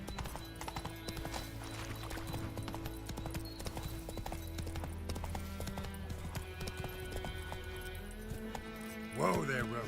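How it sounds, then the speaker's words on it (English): Horse galloping in The Witcher 3 video game: rapid, steady hoofbeats running continuously at moderate volume, mixed with game music and ambience, with voices talking over it and a neigh near the end. "Whoa there, Roach"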